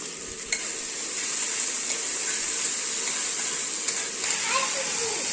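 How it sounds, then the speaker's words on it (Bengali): Ginger garlic paste fries in hot oil with a steady, moderately quiet sizzle and occasional stirring clinks, while faint background voices and a child's speech come and go underneath. "আদা আর রসুন বাটাটা দিয়ে দিলাম"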